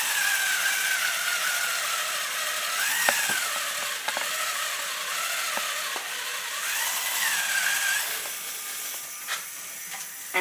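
A Lego EV3 craft tool machine drills into material, its small motor whining in rising and falling pitches over a steady broadband hiss, with a few faint clicks, close by and continuous.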